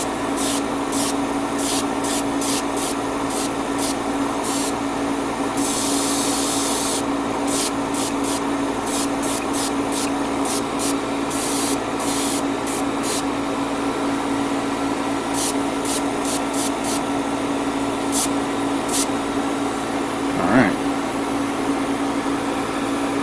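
Airbrush or spray painting lays a light coat on a 1/144 HG Gundam model kit: continuous hissing airflow with quick bursts of spray, close and steady, with no talking.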